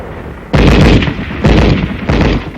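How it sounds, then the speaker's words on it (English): Machine gun fire in winter combat: three heavy bursts of automatic gunfire, each a loud booming onset that trails off, spaced about a second apart. "Our machine gun covers the advance."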